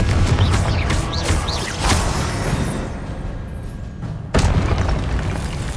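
Booming blasts from a Confringo spell in Hogwarts Legacy, several heavy explosions with whooshing bursts, then a quieter lull before another loud blast hits near the end.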